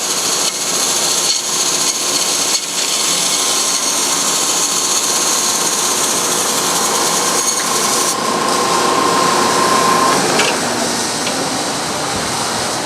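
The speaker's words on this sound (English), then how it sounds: "let's see how well this cuts with a 3/4 inch wide, 3 tooth per inch blade." A bandsaw fitted with a 3/4 inch wide, 3 teeth per inch blade cuts through PET foam, giving a steady, loud whining drone with a constant motor hum that runs unbroken throughout.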